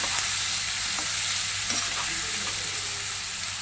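Onions fry slowly on a low stove for a fried fish and brinjal curry, giving a dense, even sizzle that stays close and steady, with a faint low hum and a few soft stirring knocks.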